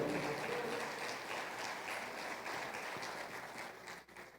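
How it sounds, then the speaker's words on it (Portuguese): A church congregation applauds during a sermon, a dense, even spread of clapping from many people that carries steadily and fades slightly at the end. "Pode aplaudir ao Senhor"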